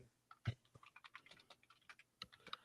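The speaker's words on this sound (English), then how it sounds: "I'm typing it now." Quiet, irregular keystrokes tap on a computer keyboard, clustered clicks with brief pauses and no talking.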